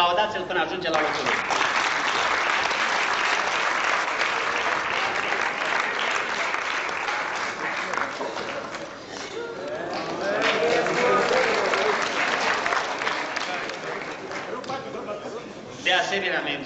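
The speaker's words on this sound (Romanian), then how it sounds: "Aplaudați-l până ajunge la locul." An audience at a 1990 humour festival applauds a performer walking back to his seat. Steady, full clapping fills the hall for a long stretch, easing slightly midway before surging again, with voices mixed in.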